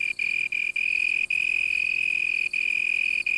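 Male cricket chirping by vibrating its wings on a leaf at night in the African bush, a steady, loud, high-pitched continuous trill with a few brief breaks.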